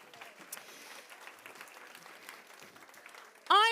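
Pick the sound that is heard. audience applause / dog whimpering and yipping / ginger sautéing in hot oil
audience applause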